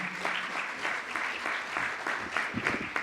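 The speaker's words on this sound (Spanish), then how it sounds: "Así que un aplauso grande para Gabriela, muy bienvenida." Steady applause from a crowd, a dense patter of clapping that holds throughout with no voices rising above it.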